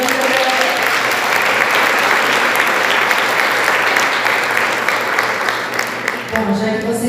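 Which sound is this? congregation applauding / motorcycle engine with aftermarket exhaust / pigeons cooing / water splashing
congregation applauding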